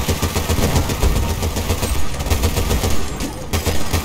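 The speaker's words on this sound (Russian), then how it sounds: "Я за пулемет." Sustained heavy machine gun fire in Battlefield Bad Company 2, loud and close, with a steady rapid stream of shots running through the whole stretch over a rumbling battlefield background.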